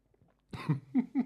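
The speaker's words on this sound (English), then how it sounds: "I hope you heard her meow." A cat meows three short, close times in a quiet room, the calls coming in quick succession after a brief faint rustle.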